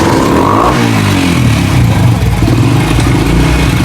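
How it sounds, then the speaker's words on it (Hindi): A CD 70 motorcycle with its silencer removed revs loudly and continuously nearby, its raw, unmuffled engine clattering and rising in pitch through the whole stretch. "स्टार्ट करो भाई बाइक को, ज़रा मैंने साउंड चेक करना है।"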